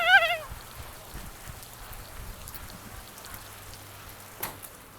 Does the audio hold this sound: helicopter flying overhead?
no